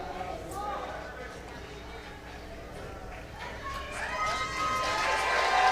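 Crowd at a WhirlyBall national tournament court cheers, whoops and hollers, with clapping in a steady wash of noise that swells louder toward the end, voices mixed through it.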